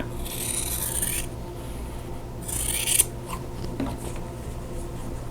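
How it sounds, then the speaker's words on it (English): Corners being trimmed off fabric quilt squares for a Mountain Meadows quilt block: two short, dry, rasping cuts, close and fairly quiet, separated by a pause, with no talking. "now I want to trim off the outer corners of both squares"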